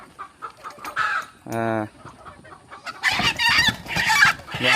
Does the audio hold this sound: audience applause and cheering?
no